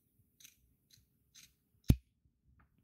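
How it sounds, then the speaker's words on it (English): Scissors make one sharp, close snip trimming excess fabric along the edging of a pair of scrubs, with faint cloth rustling just before and no talk. "And then you can just trim off these this excess"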